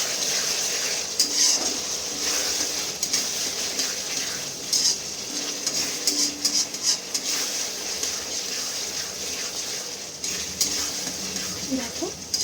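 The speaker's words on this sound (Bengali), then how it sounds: "সব কিছু একসাথে আমি মিক্স করে নেব" Chili chicken being stirred with red chili sauce in a pan, a steady wet sizzle and scrape running throughout, with occasional utensil clinks against the pan close by.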